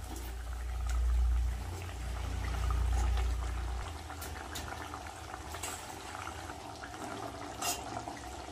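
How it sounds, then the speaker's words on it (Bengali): Bhetki fish pieces slipped into a simmering curry gravy, with a bubbling boil, low liquid rumbles and gentle splashing, close and steady with no voices. "এবার আমি মাছগুলো দিয়ে দেবো।"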